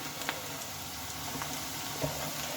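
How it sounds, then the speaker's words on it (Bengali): Onions frying in a pan, being browned for a cabbage and moong dal dish, give a soft, steady sizzle with a few light stirring clicks, close and fairly quiet. "তো পেঁয়াজগুলোকে এখন একটু আমি লাল লাল করে ভেজে নেব"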